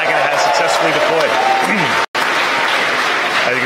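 A crowd cheers and applauds loudly and steadily as the Dragon cargo capsule deploys during a recreated CRS-12 launch webcast in Kerbal Space Program, with voices mixed in and a brief dropout near the middle.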